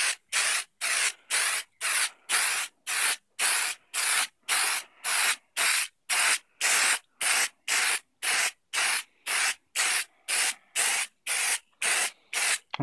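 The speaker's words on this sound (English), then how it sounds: "I'm going to add one more coat of high gloss lacquer" High gloss lacquer sprayed onto a Rubies First Order Stormtrooper mask as a steady run of about twenty short, evenly spaced aerosol bursts, each loud hiss close by and separated by brief silences, with no talking.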